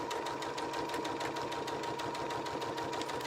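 Sewing machine stitching a second row of seam on a book pillow, a steady rapid needle chatter with a constant motor hum, close and uninterrupted, without speech.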